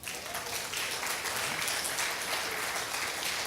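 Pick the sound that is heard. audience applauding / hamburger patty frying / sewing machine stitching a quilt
audience applauding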